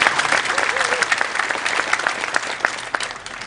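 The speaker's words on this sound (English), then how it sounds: "Give yourself an applause." A crowd of graduates claps at a university commencement ceremony, with dense, continuous applause that slowly thins.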